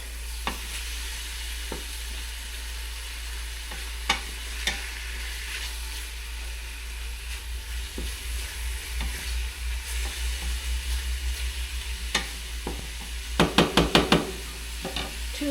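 Ingredients browning in a pan give a low continuous sizzle with repeated stirring scrapes and a few sharp clinks and knocks of a utensil near the end, close up, with no one talking.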